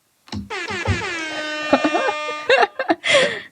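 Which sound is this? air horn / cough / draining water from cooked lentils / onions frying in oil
air horn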